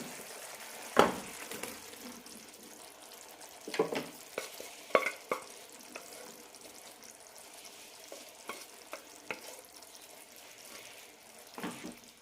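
Pieces of tender jackfruit are stirred into a masala fry in a pan, with repeated scraping and clacking strokes over a soft, steady sizzle.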